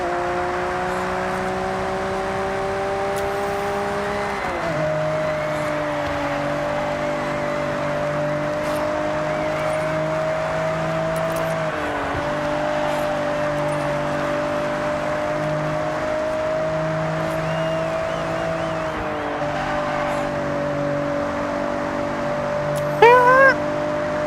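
A Nissan R32 GT-R in Forza Horizon 6 holds a steady engine drone through a corner, with gear shifts stepping the pitch and faint tyre squeal late in the clip.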